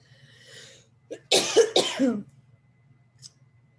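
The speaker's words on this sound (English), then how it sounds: "I'm having a coughing attack." Two harsh, close coughs in quick succession, preceded by a short throat sound, then quiet.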